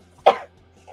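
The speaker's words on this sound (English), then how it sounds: "It's coughing, not sneezing." A single short, sharp cough bursts out close by, then fades into near silence.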